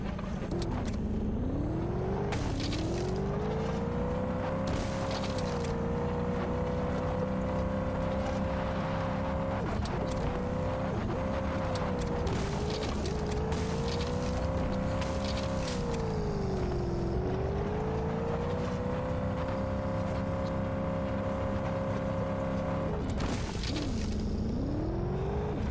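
A car engine in the zombie game Zed Zone drones steadily for nearly half a minute while driving past trees, pitch rising and falling with throttle changes through several shifts, alone with no talk.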